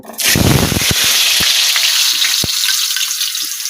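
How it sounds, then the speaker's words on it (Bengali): Potatoes dropped into hot oil burst into a loud, close hiss of frying, with a few sharp pops and crackles as the sizzle settles into a steady roar. "আমি প্রথমে আলুটাকে ভেজে নেব"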